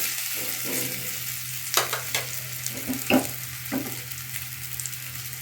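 An egg, potato and carrot mixture sizzles in hot oil in a pan, a continuous crackling fry punctuated by a few scraping turns of a spatula and light clatters, close and moderately loud.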